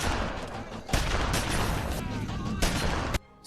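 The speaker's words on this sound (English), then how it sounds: "You just fiddle with the slide and continue firing" Rapid gunfire from the action film Belly of the Beast, a dense burst of shots and clatter with several sharper cracks, running almost continuously before cutting off abruptly.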